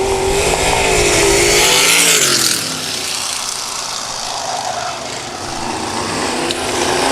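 Antique and vintage race cars on a track at night, engines roaring loudly as a car passes close with a falling pitch, then a steadier, more distant drone of cars circling.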